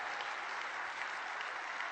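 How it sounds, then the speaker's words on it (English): An audience at a team-building talk gives a round of applause, a dense, even wash of clapping from many hands that holds steady and fairly distant throughout, with no distinct whoops standing out. "Give yourselves a round of applause."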